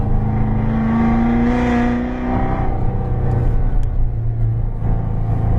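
A car on a race track accelerates at full throttle, its engine rising in a loud, strained howl, then a gear change drops it into a lower, rumbling pull. No one speaks over it.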